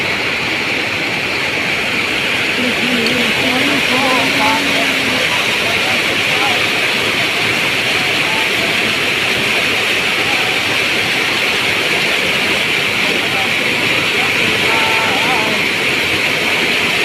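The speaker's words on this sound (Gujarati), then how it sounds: "પાલનપુરમાં ભાઈ વડગામ તાલુકામાં ધોધમાર વરસાદ." Heavy rain pours down steadily in a dense, continuous hiss over Vadgam taluka near Palanpur, Gujarat, with faint voices now and then beneath the downpour.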